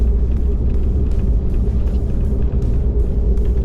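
An old Jeep Wagoneer, long forgotten and barely braking, drives on the road with a loud, steady low engine rumble and road drone throughout, no talk.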